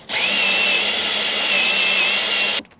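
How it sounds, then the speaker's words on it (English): A power drill spins out the 10mm bolts holding a Nissan 350Z side mirror, one steady high-pitched whir that runs for about two and a half seconds, close and loud, then cuts off. "I'm going to use my drill attachment just to speed things up a little bit."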